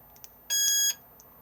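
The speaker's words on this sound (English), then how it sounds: "one beep armed," One short electronic beep from an alarm fob arming in a Coachmen VIP 575 caravan, a clear high-pitched tone lasting under half a second, with quiet clicks before and after.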